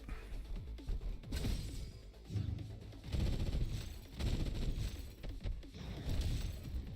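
Rapid gunfire bursts from the Girls' Frontline 2 video game, with dense clattering shots and crashes repeating in waves across the clip at moderate loudness.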